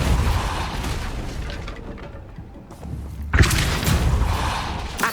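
The Depulso spell fires in Hogwarts Legacy, a loud whooshing burst and boom over a dense rumbling game soundscape that dips briefly before a second sharp impact surges back.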